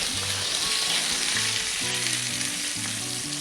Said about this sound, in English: Can you hear that? It's sizzling. It's cooking.